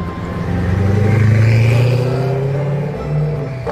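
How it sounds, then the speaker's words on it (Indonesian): A racing car's engine drones steadily and loudly, swelling toward the middle before easing off and rising briefly again, with no voices over it. "lalu selanjutnya juga ada mobil balap teman-teman"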